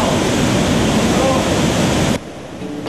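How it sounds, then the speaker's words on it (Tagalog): River water spills over large rocks after flowing out of a small cave spring, a loud broadband rush that cuts off abruptly near the end, leaving quieter ambience. "umaagos mula sa isang maliit na kuweba at umaapaw sa mga malalaking bato patungo sa ilog"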